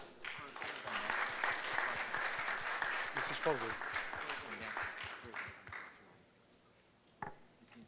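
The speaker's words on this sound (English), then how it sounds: "Please welcome him with a warm round of applause." A conference audience applauds steadily for several seconds, fading out, followed by a single loud knock; a voice speaks faintly beneath the clapping.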